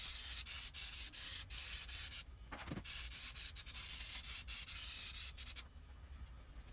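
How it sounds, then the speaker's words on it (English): A spray can of acetone-based carburetor cleaner blasts grease off car brake calipers in a run of loud, hissing bursts with brief pauses between them. "You want to use the pressure from the spray can to blow the grease off of the parts."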